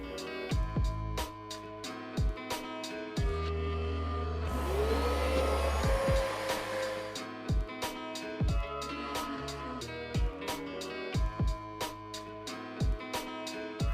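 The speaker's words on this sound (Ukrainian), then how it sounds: "за допомогою миючого пилососа прибираємо залишки хімії та забруднення з самого сидіння" A washing vacuum cleaner extracts chemical residue and dirt from a car seat's textile. Its motor whines up for a few seconds in the middle, surrounded by many sharp, close clicks and knocks before and after.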